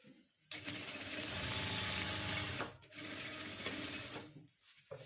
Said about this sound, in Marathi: पक्की टीप मारून घ्यायची आपल्याला दोन्ही साईडने